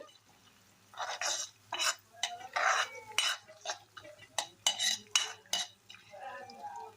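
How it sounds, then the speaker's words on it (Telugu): Ingredients stirred and fried in a pan for egg rice until light golden, with repeated bursts of scraping and clinking from a utensil against the pan in an irregular rhythm over a faint sizzle. "ఇలాగా కలుపుకుంటూ గోల్డ్ రంగు వచ్చేదాకా వేగించుకోవాలండి మొత్తం."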